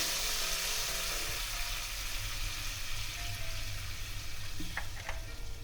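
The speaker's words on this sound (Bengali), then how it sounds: "এবার আমি এর মধ্যে দিয়ে দেবো জল" Water goes into a hot pan of mango pieces fried with salt and turmeric, giving a loud, continuous hiss and sizzle with a few small clinks near the end.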